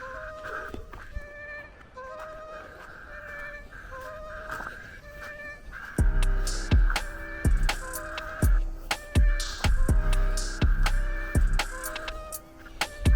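Paradise ducks call outdoors in rain near a perimeter fence, with a series of honking, clucking cries that start moderately distant and grow louder and denser, overlapping in uneven bursts.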